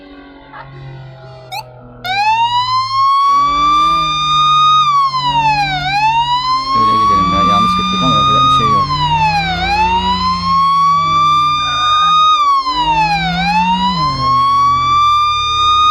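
A wailing police car siren in the game Flashing Lights, sweeping up and down in repeated cycles after a quiet start, loud and steady over engine noise, with someone talking over it.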